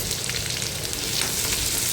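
Pounded ginger and garlic with cumin and curry leaves frying in hot oil in a kadhai, a steady close hiss and sizzle with faint stirring, no talking.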